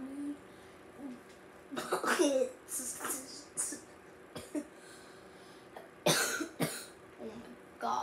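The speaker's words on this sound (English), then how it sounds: "Oh my god, my cough is bad." A man coughs repeatedly in sharp, harsh bursts, close up, with short pauses and throat clearing between them and some voices nearby.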